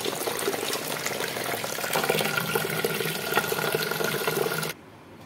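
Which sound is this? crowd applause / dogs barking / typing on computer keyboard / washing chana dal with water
washing chana dal with water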